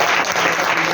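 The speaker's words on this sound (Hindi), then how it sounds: "और एक बार वंस मोर जोरदार ताली बजा करके" A church congregation bursts into loud, dense applause, a continuous roar of many hands clapping close by for a brief moment.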